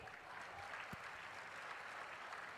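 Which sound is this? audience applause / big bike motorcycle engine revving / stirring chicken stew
audience applause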